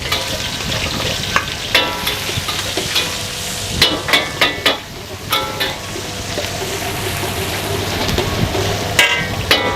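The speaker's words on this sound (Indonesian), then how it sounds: "di sini minyak udah masuk, langsung aja gue bakal masak ya, masak si tumis buncisnya. Bombay gue masuk sebanyak 1 kilo." Onions, about one kilo, sizzle steadily in hot oil while being stir-fried for green beans, a loud broadband frying hiss with scattered scraping clatters of a spatula against the pan throughout.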